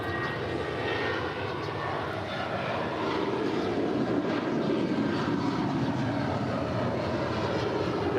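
Airliner engines roaring during takeoff from runway 25 right at LAX, a broad steady rumbling roar heard from a distance, continuous and even for the whole stretch without voices.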